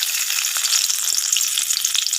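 Chopped garlic sizzles in hot oil in a kadai for a Bengali tempering, a steady bright crackling hiss with small pops running evenly throughout, close and fairly loud with no voices.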